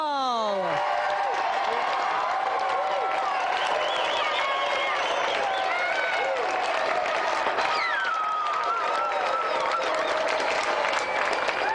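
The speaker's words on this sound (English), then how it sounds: "let's have another round of applause for our three volunteers" Studio audience applause on a 1992 television game show, a dense, steady wash of clapping with scattered cheers and whoops that holds loud and continuous throughout.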